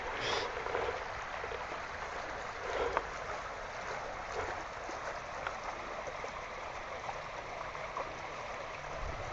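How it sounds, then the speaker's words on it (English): Steady rushing water pours over a river spillway, a continuous broadband hiss at moderate distance with no talking and only slight fluctuations. "just listening to the water"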